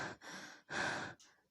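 A person imitates panting with quick breaths: three forceful, breathy huffs in a row, close and clear, with short pauses between them.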